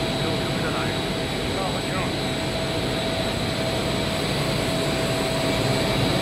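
A film blowing machine with a Siemens electric motor and a Taiyuan fan runs continuously, giving a steady, loud mechanical roar and whine with a constant high tone and no pauses.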